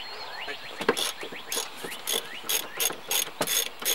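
A ratchet wrench loosens the seat bolts in a BMW E63 6 Series or E60 5 Series. Its quick clicking comes in short repeated bursts, close and fairly loud, with brief pauses between strokes.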